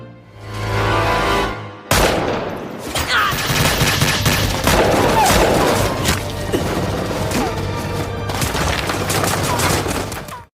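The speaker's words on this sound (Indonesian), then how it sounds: "Tak lama, aksi baku tembak pun terjadi" A loud, chaotic exchange of gunfire, with bursts of shots, crashes and impacts piling up continuously for several seconds.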